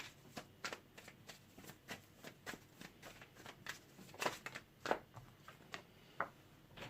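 Tarot cards being shuffled by hand in a series of crisp, repeated riffling flicks and soft slaps, close and moderately quiet, with no talking over them.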